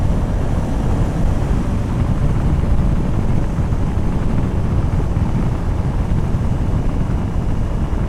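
A KTM 390 Adventure X Plus 2026 motorcycle has its throttle opened while riding the NH66 highway, a steady loud engine drone buried under heavy buffeting wind rush that runs unbroken throughout.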